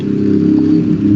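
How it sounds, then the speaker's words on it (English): A motorcycle outside gives a steady mid-pitched engine drone with low rumbling harmonics, fairly loud and continuous, with no voices over it. "I hear a motorcycle."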